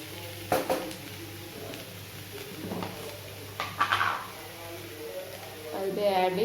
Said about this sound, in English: And I will give it a good mix.